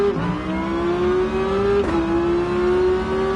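A racing car's engine in GT Sport, apparently a DGT GR1T Tomahawk, holds a steady, loud drone whose pitch climbs gradually, with a brief dip about halfway through, like a gear change, and no talking.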